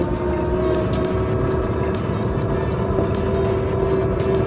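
A nearly hundred-year-old Pierce-Arrow 126 vintage car drives along a track, its engine giving a steady loud rumble with a faint whine, heard from inside at close range.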